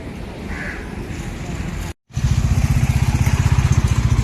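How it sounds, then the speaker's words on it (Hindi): A Bajaj Dominar 400 motorcycle, just back from service, runs with a rough, steady idle, cuts out briefly, then starts again and pulls away on a test ride with a loud, pulsing engine thrum close by. "service done and now Sushant is going for a test ride"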